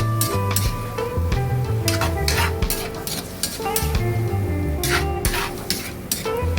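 Pork belly and tomatoes sizzle in a pot while being stirred, a loud close frying hiss broken by repeated scraping and clinking of the utensil against the pot.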